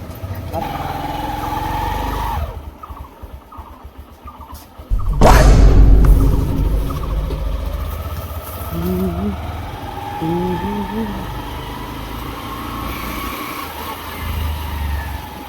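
Motorcycle riding along a road, a steady engine drone with a loud surge of revving midway, then a continuing hum under wind noise and occasional voices.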